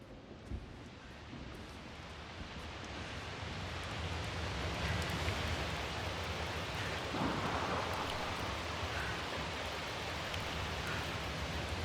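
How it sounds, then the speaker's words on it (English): Heavy rain and a building thunderstorm in the video game The Invincible: a dense, continuous hiss of rainfall with low rumbling thunder swelling louder partway through, no voices present. "Storm's getting worse."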